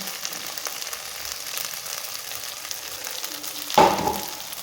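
Rice fries in leftover chicken oil with a steady, soft sizzle and crackle, then a louder burst of hissing and stirring near the end, close by.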